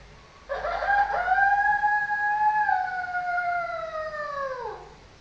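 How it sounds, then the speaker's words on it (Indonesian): A single long, drawn-out junglefowl crow rings out alone, clear and fairly close, rising then trailing off over several seconds. "mendengar suara ayam hutan berkokok"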